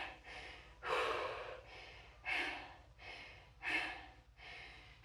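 Heavy, ragged breathing after a workout: four or five loud, close gasping exhales spaced about a second and a half apart, each one rising sharply and fading, with no talking.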